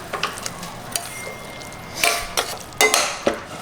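Onions and green chilies are stirred in a pan with cloves, a spoon scraping and clinking in a few uneven strokes over a soft, steady sizzle, fairly close and with no talk.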